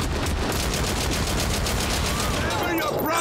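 Turrets firing in the video game Haze, a continuous rapid stream of loud automatic shots pounding steadily with no break, a voice faintly underneath.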